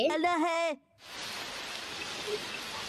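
Steady rain falls in a continuous, even hiss that sets in after a short voice at the start and keeps going at moderate loudness to the end.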